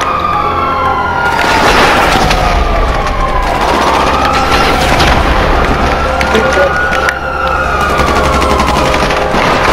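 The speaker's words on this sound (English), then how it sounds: "Oh, warning shot for you, buddy." Gunfire in the video game GTA 5 cracks out loudly amid wailing sirens and chaotic action, with rapid shots layered over a continuous dense din.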